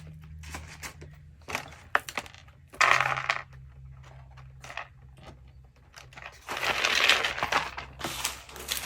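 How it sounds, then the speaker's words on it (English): Small plastic diamond embellishments poured and dropped into a craft shaker for a graduation centerpiece, giving several bursts of light clicking, tumbling and scattering, loudest near the middle and end, with quiet gaps and no talking. "I'm going to add me some little diamonds."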